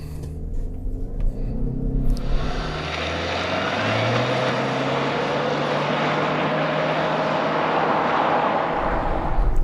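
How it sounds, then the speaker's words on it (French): A 2022 Subaru Outback Wilderness with a CVT accelerates. A loud, steady engine drone and broad road rumble build after a brief quieter start, and the pitch rises slowly without distinct gear shifts. "je vais tester l'accélération de la Outback Wilderness"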